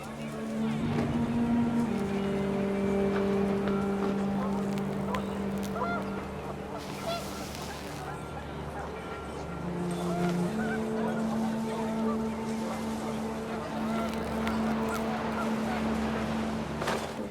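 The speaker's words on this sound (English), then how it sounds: "The wind picked up and panicked geese appeared and quickly went." Panicked geese honk in the video game What Remains of Edith Finch, repeated honks over gusting wind and a steady musical drone, with a narrating voice running throughout.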